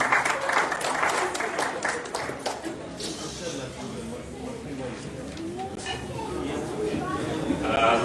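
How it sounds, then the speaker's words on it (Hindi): Applause from an audience at a Tavua College and primary school reunion, a steady crowd clapping for a speaker that holds through the whole stretch, with voices talking over it. "जोरदार ताली अगेश के लिए"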